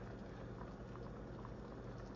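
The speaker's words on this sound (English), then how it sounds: "We just want the light bubbling, right?" Thai red curry in a pot settling to a light simmer, with a soft, steady bubbling and faint popping throughout, close and quiet with no talking.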